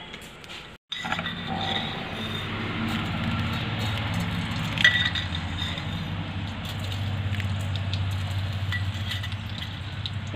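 Mustard seeds hit hot oil for a Kerala-style kovakka pachadi, giving a sharp clink and then a steady sizzle with scattered faint pops and crackles close by, over a low background hum.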